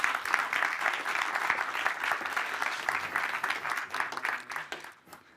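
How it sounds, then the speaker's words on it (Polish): An audience at an IT awards ceremony applauds a presenter called to the stage, with dense, even clapping at moderate level that fades near the end. "wielkie brawa dla niego"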